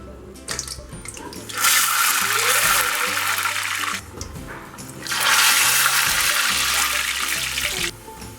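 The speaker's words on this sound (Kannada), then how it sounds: "ಇದನ್ನು ಕಾದಿರೋಂಥ ಎಣ್ಣೆಗೆ ಹಾಕ್ಕೊಂಡು ಫ್ರೈ ಮಾಡ್ಕೊತೀನಿ" Urad dal vada dropped into hot oil to fry, with two long bursts of loud hissing sizzle separated by a brief quieter pause and no talking.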